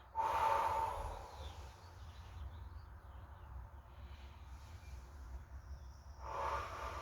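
Deep exhales during a guided rib-cage breathing exercise, two louder breathy bursts at the start and end with quieter breath sounds and low room rumble between them.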